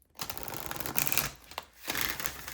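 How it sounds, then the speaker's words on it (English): Tarot cards being shuffled quickly by hand, with a few short, close riffling bursts and brief pauses between them. "I'm just gonna shuffle quickly for your person."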